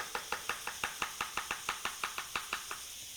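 A knife slices garlic on a cutting board in a quick, even run of about twenty crisp taps, close and clear with no talking.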